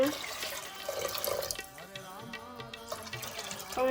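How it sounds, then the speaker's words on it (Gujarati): Water poured into a pot of lentils for Gujarati dal dhokli, a short close splash and gurgle with a voice talking over part of it. "દાળમાં પાણી નાખી દીધું"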